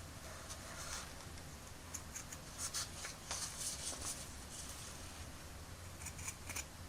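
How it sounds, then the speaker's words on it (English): Scissors snipping through felt to cut out a pattern piece for a toy vest, a series of faint, irregular crisp snips close by against a quiet background. "I'm going to get my scissors and carefully cut this out so that we have the exact shape on in felt."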